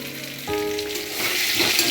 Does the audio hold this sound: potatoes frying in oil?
yes